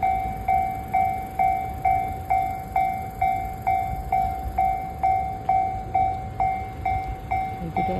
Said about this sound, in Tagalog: May daan may train.